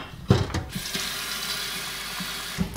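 Water runs into a machine being cleaned of a musty smell, a steady close rush of flowing water after a few sharp mechanical clicks and clunks, with another knock at the end.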